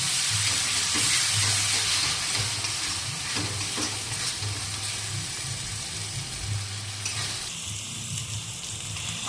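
Ginger garlic paste frying in hot oil in a pan while being stirred, a loud continuous close sizzle with intermittent scraping and clatter of the spoon, no talking.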